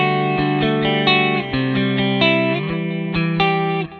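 A clean electric guitar played through a Helix twin 15-inch speaker amp with no EQ rings out in a steady run of plucked notes and chords, loud and close with a sustained, slightly shimmering tone.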